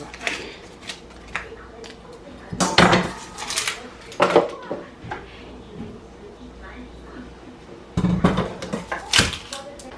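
A knife chops onions for a Senegalese sauce in a home kitchen. Irregular bursts of sharp clacks and clattering strike the cutting board, with quieter gaps between them and faint talk in the background.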